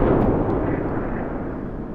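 Naval cruiser guns firing in World of Warships, a loud booming blast that rolls into a long rumbling decay filling the whole moment.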